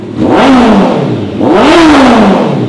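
A Kawasaki ZX14R 1441cc inline-four motorcycle engine is revved twice up close, very loud, each rev rising to a high howl and then falling back to idle.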